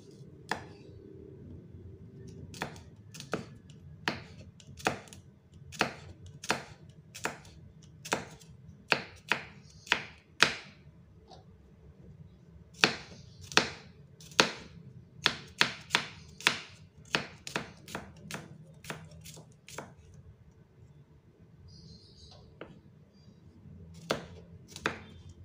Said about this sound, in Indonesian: Nah, selanjutnya mau aku iris dulu ya bawang putih.